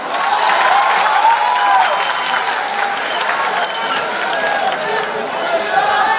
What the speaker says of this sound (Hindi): एकदम ताली बजाओ